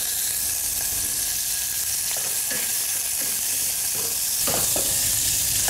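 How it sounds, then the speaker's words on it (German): Steady crackling sizzle of pork tenderloin scraps frying in a hot pot, with a few scraping stirs and light clatters near the end. "Dann kann man die Abfälle oder Fleischreste vom Schweinefilet mit hernehmen. Die kann man ein bisschen anbraten."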